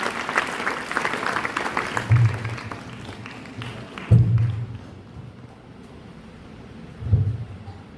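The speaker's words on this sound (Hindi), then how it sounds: "सर जोरदार तालियों के साथ स्वागत कीजिए।" Applause welcoming a speaker at a Gandhi and Shastri Jayanti gathering fades from a dense patter into quieter scattered claps, broken by three dull low thumps spaced a couple of seconds apart.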